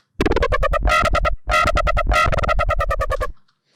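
A bright, harmonically rich FM screech pluck bass synth, dubstep style, plays a run of short plucked notes with a harsh, buzzy top end, loud and close, then cuts off.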